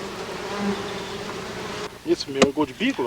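Stingless bees buzz in a steady, close drone around a freshly opened log nest as the stump's end cap is removed, before a run of sharper tapping and knocking sounds takes over.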